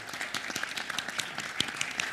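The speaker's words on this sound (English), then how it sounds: "please join me to give a big round of applause to our panelists here today" A conference audience applauds the panelists at a plenary session, a short burst of dense, even clapping heard from within the hall without voices.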